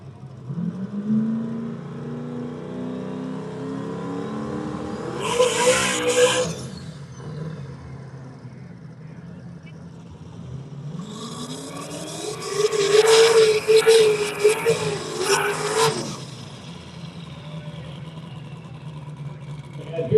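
Drag race cars, one with a 302 engine, rev hard and launch down the strip in two loud bursts of rising engine roar separated by idling rumble, with announcer talk in between.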